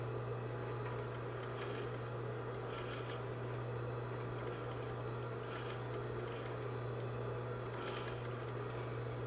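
Sewing machine stitching forward and back-stitching along a seam over pins, heard as short bursts of rapid mechanical whirring separated by pauses, with a steady low hum underneath.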